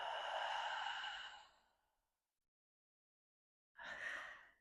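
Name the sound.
slow deep exhale during a breathing exercise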